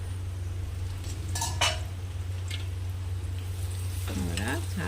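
Besan being stirred and mixed into aloo bhindi in a pan, a spoon scraping softly over a continuous low hum and faint sizzle, with a short tonal sound near the end.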